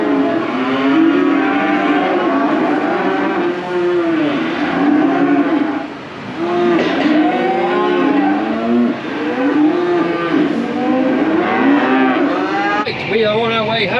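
A cow and her calf moo again and again at close range during an evening cattle weaning outing, the long, loud lowing calls overlapping almost without pause over a faint vehicle rumble.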